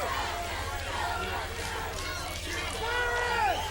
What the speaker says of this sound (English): The crowd's back into it now.